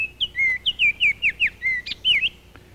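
Bird song from a northern oriole or similar nectar-feeding backyard bird: a quick series of bright, clear whistled notes in a steady rhythm, close and loud, with no talk.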